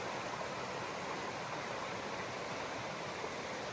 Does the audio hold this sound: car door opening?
no